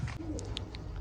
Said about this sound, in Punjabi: ਸਾਰੇ ਕਬੂਤਰ ਆ ਗਏ ਦਾਣੇ ਤੇ ਬਈ ਵੱਡੇ ਆਪਣੇ